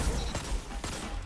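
Rapid submachine gun fire in a Destiny-style PvP shooter match, a busy stream of shots with sharp bursts near 0.35 and 0.85 seconds, loud and close over game noise.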